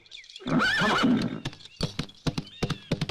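A ridden horse neighs loudly, then its hooves clip-clop in a steady rhythm of sharp, close knocks.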